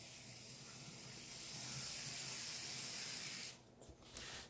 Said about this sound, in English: All you can hear are gears in this thing.